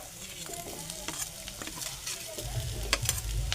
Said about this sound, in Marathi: आता आपण याच्यामध्ये हा चिरलेला बटाटा आहे तो याच्यामध्ये आपण ॲड करू